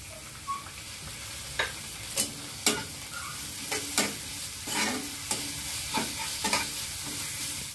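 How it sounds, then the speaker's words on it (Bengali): Spice masala of turmeric, chili powder and ginger-cumin-garlic paste fries in a pan, a spatula scraping and stirring in repeated strokes over a continuous sizzle, close by with no talk. "মশলাটা ভালো করে কষিয়ে নিয়ে"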